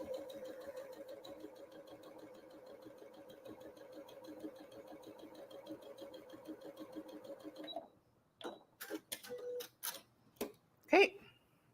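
A sewing machine stitches quilt block seams under the presser foot in a fast, even mechanical hum lasting several seconds, then stops, followed by scattered soft clicks and handling noises.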